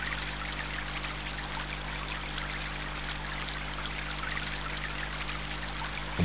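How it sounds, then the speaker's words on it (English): Water flows and trickles steadily, a constant bright rushing stream with no pauses and no voices. "Observe the calming qualities of the flowing water."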